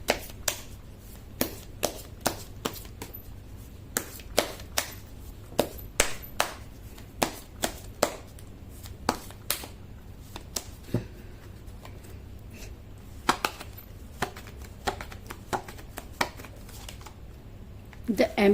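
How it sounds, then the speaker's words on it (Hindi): Tarot cards being shuffled by hand in a quiet room, a long run of crisp, irregular snaps and riffles with short gaps between them, close and fairly faint, with no talking. "कर लेती हूँ कार्ड की शफलिंग।"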